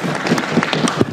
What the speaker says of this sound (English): Where does the applause come from?